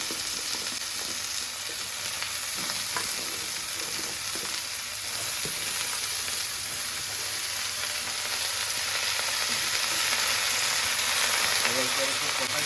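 Stalks and mashed potato added to an oiled frying pan, giving a steady, close, loud sizzle with occasional stirring scrapes.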